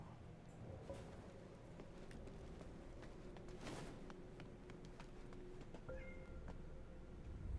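A cat meows in the action game Wuchang: Fallen Feathers, a short cry heard over a steady ambient game background, with a few faint footstep-like taps around it.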